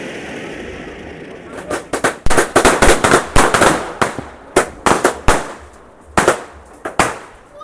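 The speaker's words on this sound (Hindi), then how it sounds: "उधर बाहर कुछ लोग आतिशबाजी के अंदर मसरूफ हैं।" Firecrackers go off outdoors at a village wedding in Azad Kashmir: a rapid, irregular string of loud, sharp cracks and bangs, some bunched into fast bursts, with crowd noise underneath between the blasts.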